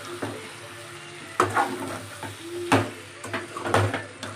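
Spicy chicken fry being stirred in a pan, with a spatula scraping and turning the masala-coated pieces in several distinct bursts over a soft sizzle, close and fairly quiet.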